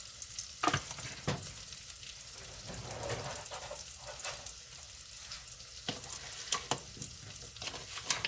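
Andouille sausage, shrimp, scallops and crab frying in a pan are stirred with a utensil, giving a soft continuous sizzle broken by several sharp scraping clacks against the pan.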